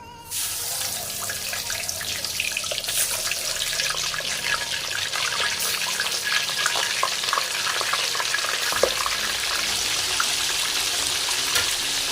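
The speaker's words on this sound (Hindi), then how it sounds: "अब इसी गर्म ऑयल में हम पनीर को भी फ्राई कर लेंगे" Paneer frying in hot oil for Hyderabadi paneer, a loud, steady, close sizzle with a constant hiss and fine crackles, running unbroken for about twelve seconds with no one speaking.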